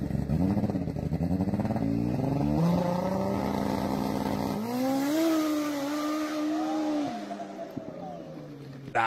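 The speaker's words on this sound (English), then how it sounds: "Incredibly fast snowmobiles that are built for racing." Purpose-built racing snowmobiles scream past at high speed. Their engines give a loud, continuous, rising and falling whine, with the pitch sweeping as they pass close by, and there is no clear speech.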